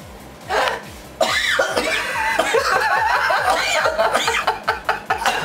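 Several people cough in quick bursts, some of it breaking into laughter, close by and over a rhythmic mechanical thumping underneath.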